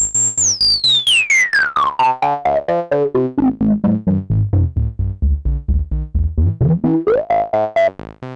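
Nyborg-12 analogue synth with the filter boost engaged: a resonant filter sweep glides steadily downward into a dark, muffled low register, then rises again, over a loud, evenly pulsing run of repeated notes with no voices.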